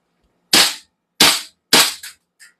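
Toy gun firing in sharp, close cracks, three evenly spaced loud shots followed by a couple of weaker pops, with silence in between.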